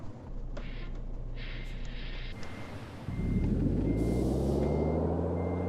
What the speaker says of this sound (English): So I'll just straighten the trailer out and then reverse back.